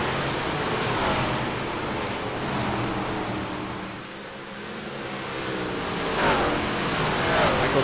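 Big block modified race cars roaring around the Eldora dirt track, a broad continuous engine rumble that swells and fades as cars pass at a distance.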